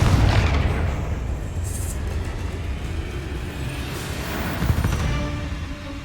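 Confringo fire spell blasts in a Harry Potter video game, a dense rumbling roar of booming explosions that stays loud throughout with a few sharper flares, close and sustained, no talk.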